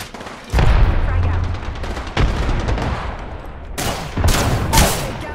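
Frag grenade blast and surrounding combat in Apex Legends, with several sharp, loud booms and bursts of gunfire punching through a continuous rumble while voices talk underneath.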